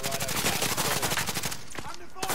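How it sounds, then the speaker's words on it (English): Rapid gunfire in a video game, rounds punching through a wall, loud and dense bursts of shots for most of the moment before thinning out, with some voice chatter mixed in. "they're shooting through the wall"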